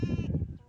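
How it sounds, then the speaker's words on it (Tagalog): A single short goat bleat sounds nearby, a wavering nasal cry lasting under a second. "Yun ang mga kambing"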